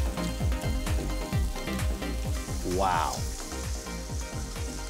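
Rose veal sweetbread sizzles and fries steadily in foaming butter in a pan, with soft scraping and stirring clatter throughout and a brief exclamation from a voice.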